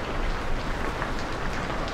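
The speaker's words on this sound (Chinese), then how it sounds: "我也没想到会下雨嘛" Rain falls outside a shop during a storm, a dense and constant hiss that stays at an even, moderate level throughout.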